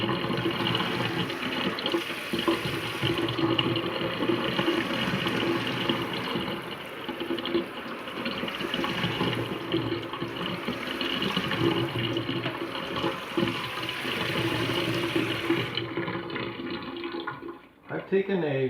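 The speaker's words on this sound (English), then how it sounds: "I'll do a better job of power washing the product off." Tap water, low in minerals, sprays steadily to rinse cleaning product off a vinyl record, a continuous near rushing hiss running almost unbroken before cutting off near the end; faint talk may sit underneath.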